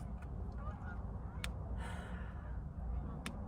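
Geese honking outdoors, with a few brief, sharp calls standing out over a steady low rumble of background noise.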